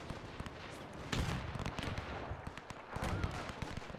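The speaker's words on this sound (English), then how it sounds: "You can see a lot of enemy machine gun fire." Enemy machine gun fire in a WW1 video game, rapid cracking bursts and distant pops over a rumbling background, moderately loud with a denser volley midway, no talk.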